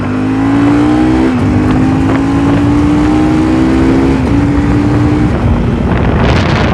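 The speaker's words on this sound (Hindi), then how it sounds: "देखो मैं आपको क्लचलेस ना शिफ्ट करके दिखाता हूँ। अप शिफ्ट देखना" A motorcycle engine drones under wind rush while riding, its pitch climbing and then dropping abruptly at a clutchless upshift before rising again, loud and close.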